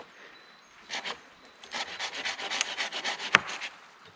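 Wooden stick being stressed along its grain during a bushcraft step cut: quiet rasping, rubbing strokes build in a rhythmic series, then one sharp brief crack near the end, up close outdoors.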